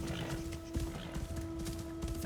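Horse hooves clip-clopping on the ground in Assassin's Creed Shadows, a handful of soft irregular steps fairly close, under steady game ambience with a faint tonal hum.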